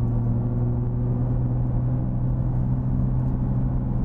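A race car engine drones steadily at high revs on a lap of Donington Park while shifting up to fifth gear, a dense, continuous in-car hum with no break or pause.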